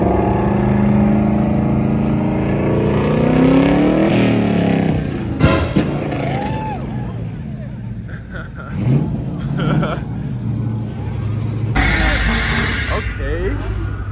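A car revving at a busy car meet in Las Vegas, with loud engine roars rising and falling under near and constant talk and shouting from the crowd.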